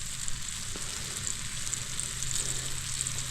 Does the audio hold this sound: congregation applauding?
no